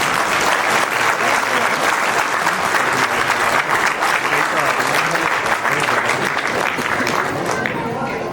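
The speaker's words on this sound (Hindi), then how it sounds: "जोरदार तालियां।" An audience at a memorial anniversary ceremony for a Maharaja claps loudly and steadily for a performer, a dense sustained round of applause that carries on for about eight seconds before thinning at the end.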